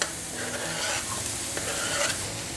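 Capsicum sautéing in a hot pan for soya ball Manchurian, with a steady close sizzle and scraping stirring strokes throughout, no voices.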